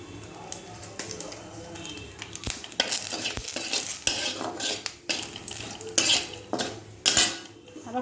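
Cumin seeds and a bay leaf go into a hot pan and get stirred. A metal spoon scrapes and clatters against the pan in uneven bursts over a faint sizzle.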